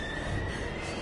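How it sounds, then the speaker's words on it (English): A train in the video game Heavy Rain, with a steady high metallic wheel squeal over a rumbling rail roar, loud and continuous with no talk. "We've got to get on that train, Ethan."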